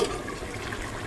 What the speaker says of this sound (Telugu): బిర్యానీ ఎలా ఉడుకుతుందో చూపిస్తాను నేను మీకు ఇప్పుడు